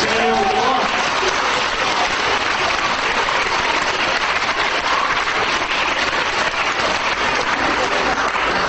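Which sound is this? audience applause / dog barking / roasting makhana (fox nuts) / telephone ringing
audience applause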